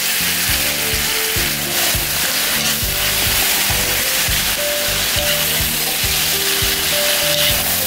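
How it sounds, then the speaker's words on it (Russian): Pork ribs fry with a full kilogram of onion in a kazan, giving a steady, loud sizzle with a constant crackle. A faint clatter of stirring comes through now and then. "И теперь будем еще раз обжаривать с лучком"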